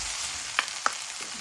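Tomatoes go into a hot frying pan for pork binagoongan, giving a steady high hiss of sizzling with two brief clinks of a utensil against the pan.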